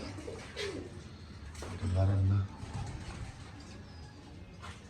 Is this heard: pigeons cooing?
yes